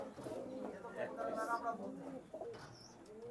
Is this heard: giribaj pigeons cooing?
yes